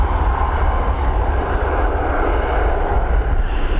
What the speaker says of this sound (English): We're heading over to Paris now with this Boeing 737 MAX.